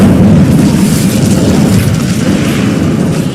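An Incendio fire spell bursts in Hogwarts Legacy, a loud, continuous roaring whoosh of flame that fills the whole moment without talk.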